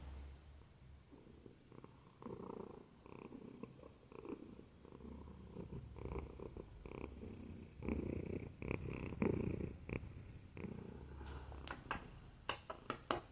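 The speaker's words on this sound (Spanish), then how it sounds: "Yo estoy acá en las piernas de Andrea haciéndole calorcito y estoy ronroneando." Simona, a cat lying on a person's lap, purrs steadily in a soft, continuous low rumble with rhythmic breathing pulses, close and quiet, with occasional small rustles and no talking.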